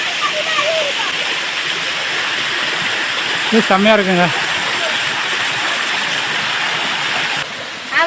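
Water pouring over rocks at the Kayilai waterfall, a loud, constant rushing roar throughout, with a person talking briefly over it partway through.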